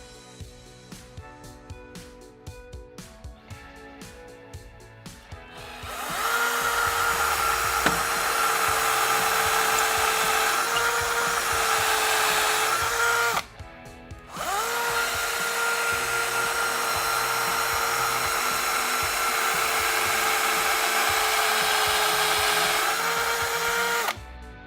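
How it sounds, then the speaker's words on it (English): A power drill bores the last two holes in a wall for a Roman blind cord safety device, a loud steady whine held for several seconds, briefly stopping, then running again after some faint tapping. "Mark the holes with our pencil, and then we're ready to drill the final 2 holes."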